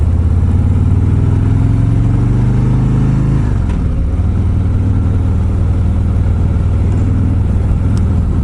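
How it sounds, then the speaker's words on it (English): A Harley-Davidson Road Glide motorcycle's big engine rumbling steadily on a ride through a sharp turn, loud and close with wind noise, pitch easing down partway through as the rider backs off. "Let's see how this big old Road Glide makes this turn."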